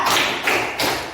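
Children clap three times in quick succession during a classroom clapping game, producing three sharp, close, evenly loud hand claps that fill the short moment.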